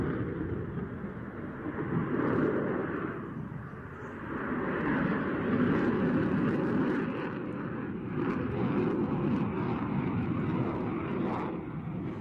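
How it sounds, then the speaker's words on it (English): A MiG-29 fighter jet in a flying display gives off a loud, continuous jet roar with broad rumbling thrust that swells and eases as it passes, no voices over it. "Now I know a MiG-29 puts on a fantastic display, as usual"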